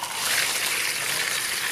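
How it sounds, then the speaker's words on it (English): Water gushes steadily from a cracked pipe connection in a garden irrigation line, a close, continuous hissing splash with no voices. "I heard water, that's bad."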